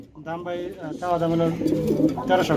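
Racing pigeons coo in soft, repeated throaty phrases, close by and clear.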